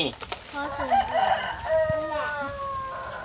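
A rooster crows in a rural Thai setting, its drawn-out cock-a-doodle-doo calls fairly close and clear, with clucking fowl and faint talk around it.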